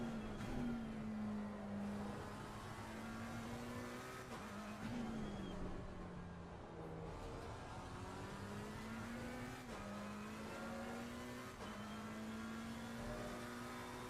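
A McLaren 720S engine drones and revs continuously around Silverstone in Assetto Corsa, steady pitch rising and falling with gear changes, other race cars faintly around it, under occasional quiet commentary.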